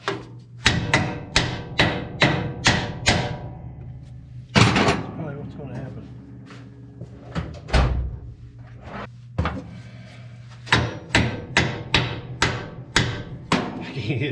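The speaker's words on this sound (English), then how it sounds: "Can't get to it, hit it with a hammer." Repeated metal hammer blows on a stuck part of a vehicle during fuel-system repair work, loud close strikes in quick bursts of five or six with pauses between, a hum running underneath.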